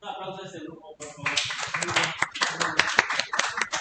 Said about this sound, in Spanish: Un aplauso a este grupo, por favor.